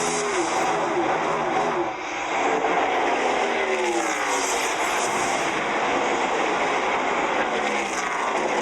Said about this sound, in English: Big knot of cars racing for about 7th place